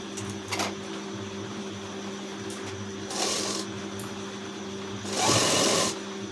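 A sewing machine stitches a blouse sleeve with light presser pressure, with a steady mechanical hum and two louder bursts of running near the middle and end.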